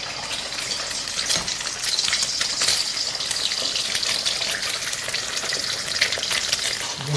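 Eggs frying in hot oil in a home-kitchen wok for mie goreng, giving a dense, steady sizzle that crackles close and continuously, with no voices.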